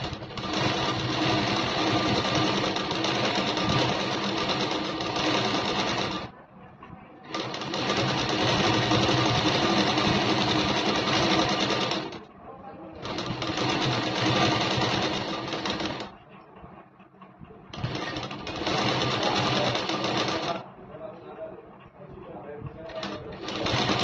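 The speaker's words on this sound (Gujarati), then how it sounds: "હવે આપણે અહીંથી કપડું ફોલ્ડ કરીશું આ રીતે અને સિલાઈ કરીશું." A sewing machine stitches folded fabric for a Pathani kurta, running in several long steady bursts separated by short pauses, with talking in the background.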